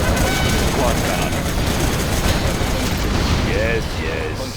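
Quad cannon bursts in Command & Conquer Generals Zero Hour, a loud dense rattle of rapid fire and booms, with a unit voice speaking over the gunfire and short radio-like chirps near the end.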